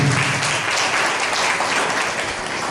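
A church congregation claps loudly and continuously during a Sunday service, a dense even wash of applause with no talking over it.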